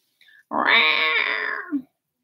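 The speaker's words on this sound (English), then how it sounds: "Hi, kitty. That's my cat. This is my baby." A pet cat lets out one drawn-out, loud meow close by, preceded by a faint short chirp and ending in a brief rising squeak.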